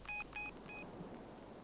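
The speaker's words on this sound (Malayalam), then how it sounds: "വാശിയിൽ നിൽക്കുമ്പോ ഞാനൊന്ന് ഫോൺ ചെയ്യട്ടെ എന്റെ പൊന്നു മോനെ" A telephone is dialed for a call, three short clear keypad tones in a quick, even sequence, fairly faint against a quiet room.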